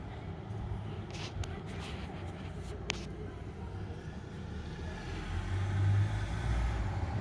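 Street traffic in Inverness, a steady low rumble of passing vehicles that swells louder toward the end, with a few faint bird chirps and brief clicks above it.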